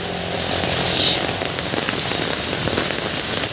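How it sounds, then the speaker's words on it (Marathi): Heavy monsoon rain in the Konkan pours down nonstop, a loud close roar of drops with no break. "पाऊस थांबलेलाच नाही मी आल्यापासून"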